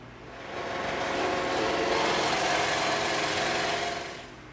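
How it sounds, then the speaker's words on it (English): A scroll saw cuts through EVA foam, its motor rising to a steady, fairly quiet buzzing hum for a few seconds before winding back down. "We're going to cut this out on the scroll saw"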